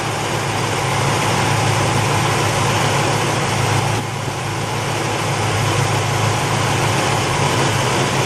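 A 1974 Chevy Nova engine idles steadily with its AC compressor running, a continuous close mechanical hum with a slight shift in tone partway through as the compressor cycles.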